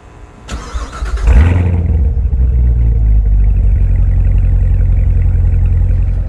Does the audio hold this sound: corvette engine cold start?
yes